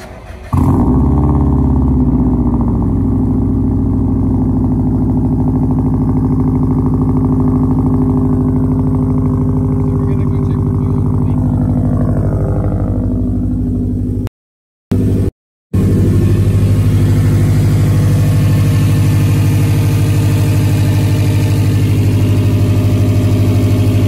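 A 2018 Subaru WRX STI fitted with an aftermarket fuel pressure regulator cranks and fires up loudly, then settles into a steady, deep idle with a low rumbling drone and a brief dropout partway through.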